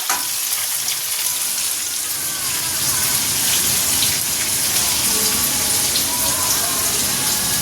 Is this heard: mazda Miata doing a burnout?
no